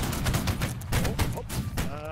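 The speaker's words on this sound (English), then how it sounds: "Take aim and fire." Repeated bursts of musket volley fire in Holdfast: Nations At War, loud crackling shots rolling one after another across a battlefield, with a voice heard over the gunfire.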